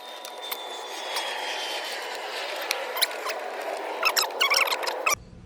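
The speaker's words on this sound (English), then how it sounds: "I'm unscrewing the band clamp" A band clamp being unscrewed on a Tacoma or 4Runner air intake, with small close ratcheting clicks and faint squeaky ticks that grow busier near the end, followed by a brief rustle.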